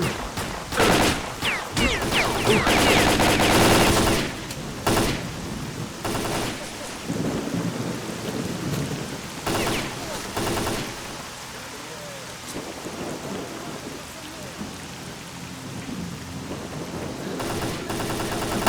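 Gunfire from a gun in S.T.A.L.K.E.R.: Call of Pripyat, loud sharp shots in irregular clusters, heaviest early, with rumbling, rain-like noise beneath and a final burst near the end.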